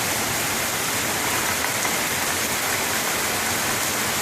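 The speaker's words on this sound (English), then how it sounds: "One solid wall of white and raining like a bad dog." Heavy rain pours down in Springfield, a dense, steady roar of falling water, loud and unbroken throughout.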